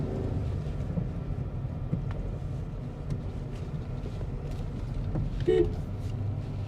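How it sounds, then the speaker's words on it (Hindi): A basic horn sounds on a 2022 Volkswagen Virtus 1.0 TSI manual in traffic as one short, faint beep. It is heard from inside the cabin over a steady rumble of road and engine noise. "हॉर्न आपको बेसिक मिलेगा,"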